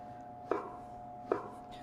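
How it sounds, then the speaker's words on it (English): A knife cuts through stacked vegetable sticks to make brunoise cubes, two sharp, close chops on a board about a second apart against a quiet background. "if we're going to make brunoise, it just means I'd have more of them. So if I stack those up on my knife and I cut them again"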